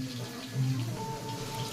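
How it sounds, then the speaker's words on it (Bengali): A short splash of water poured into a small mix of chili, cumin and turmeric spices to soak them, a brief trickling pour heard on its own at close range. "আমি এতে জলে ভিজিয়ে দিচ্ছি।"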